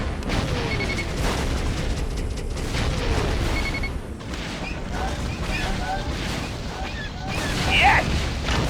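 Torpedo blasts and explosions boom through a Star Wars space dogfight against TIE bombers, a dense continuous rumble with laser zaps and swelling blasts, loudest near the end, with a voice talking over the battle.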